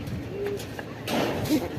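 Pigeons in a coop giving soft low coos, a few short throaty calls in close succession, fairly faint against a quiet background.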